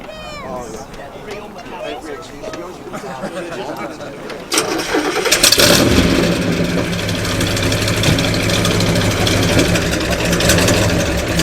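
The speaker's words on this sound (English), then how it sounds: "I'm never going to sort of deny a chance to hear this wonderful V8 engine" A classic car's V8 with side exhausts cranks and fires into a loud, throaty idle, then revs hard before settling into a rumbling idle nearby at an outdoor car meet, with people talking at first.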